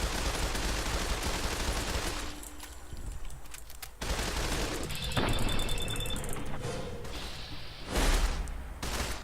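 An assault carbine fitted with a reflex sight fires in Fallout 4, giving loud, rapid bursts of automatic gunfire in several strings broken by short gaps.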